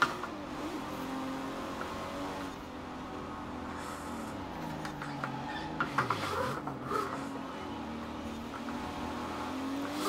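A vintage race car engine in Forza Horizon 4 on the streets of Edinburgh, droning steadily with pitch sweeping up and down through gear shifts, including a quick downshift, held at moderate level with no talk.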